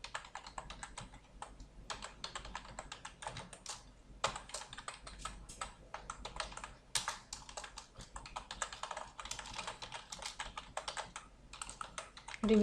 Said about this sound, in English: I'm typing literally fast because I want to cover as many operators